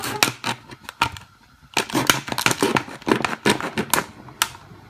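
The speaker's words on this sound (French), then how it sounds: "On va découper la bouteille. On va découper un petit rectangle." Scissors snipping a small rectangle out of a plastic Coca-Cola bottle, a close run of sharp crisp clicks and crunches in irregular bursts with a short pause partway through.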